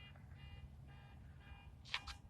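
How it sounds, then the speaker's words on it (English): A distant alarm clock beeps in faint repeated bursts across the way, over low steady background rumble on a quiet morning by a garden fence line at sunrise. "And of course, somebody's alarm goes off across the way."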